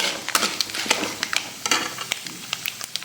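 Mustard seeds fry in hot oil for coconut rice, giving a steady sizzle peppered with sharp popping crackles and small stirring sounds, close and moderately loud with no talking.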